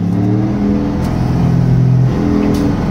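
A car engine held at about 1500 RPM, loud and close: a steady throaty drone that swells and eases in pitch, with a brief rise near the end and no talk.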